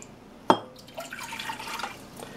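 Two cups of warm water are poured for a sourdough starter made in a bread machine: a sharp splash at first, then a short trickling, splashing pour up close.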